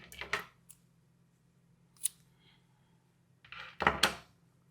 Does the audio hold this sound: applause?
no